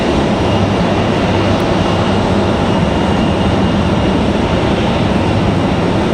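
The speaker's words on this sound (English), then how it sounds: "So that American departure, that's headed to Philadelphia. That 737 to Philly." An American Airlines Boeing 737 departs for Philadelphia as a loud, continuous broadband jet roar that stays steady throughout.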